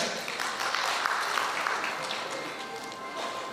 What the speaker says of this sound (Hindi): कृपया एक बार जोरदार तालियों से दीप्ति जी का इस हॉल में जबरदस्त तालियों से स्वागत करें